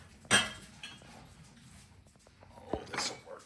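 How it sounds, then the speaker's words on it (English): Glass laboratory beakers used for home gold refining clink together while being rummaged through, with a sharp clink at the start, softer handling noises, then another bright clink near the end, and a faint voice in the background. "I'm looking for another beaker to pour this into"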